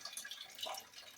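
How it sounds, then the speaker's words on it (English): Faint, close trickle and scattered drips as water drains out of an outdoor spigot's supply pipe after the water has been shut off. "Lots of water draining out of this pipe."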